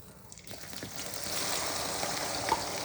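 Onions hit hot oil with curry leaves in a pan, a close, steady sizzle that swells after a quiet start and keeps frying evenly, with a faint clink near the end.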